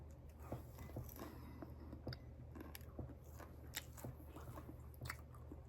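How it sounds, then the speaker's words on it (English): Someone chews a crunchy nacho bowl of chips, lettuce and tomatoes close to the mic, with steady soft crunching and wet biting throughout. "Now crunch everything up together and make a nacho bowl."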